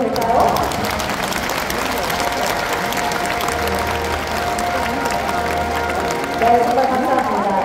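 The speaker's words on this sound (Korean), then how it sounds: "기념 촬영이 진행되는 동안 뜨거운 박수 부탁드려도 될까요?" Warm applause from the crowd in a sports hall during a commemorative photo at the closing ceremony of a national sports festival for athletes with disabilities, steady and sustained with voices mixed in throughout.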